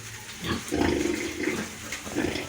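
A sow with her newborn piglets on a farm gives soft grunts and snuffling noises, low and close, in short irregular bursts over faint background noise.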